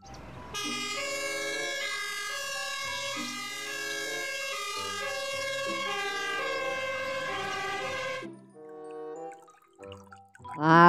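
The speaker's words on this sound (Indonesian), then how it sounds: "Mobil pemadam kebakaran." A toy fire truck siren plays a loud electronic wailing melody for about eight seconds, then cuts off into faint clicks and rustling.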